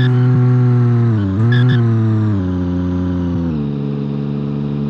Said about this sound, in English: So, that was the derby engine.